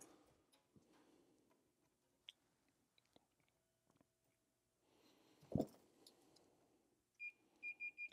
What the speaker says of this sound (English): Set on continuity beep.